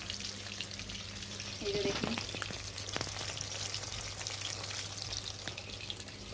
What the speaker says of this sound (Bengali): এই যে আমি মাছ ভাজছি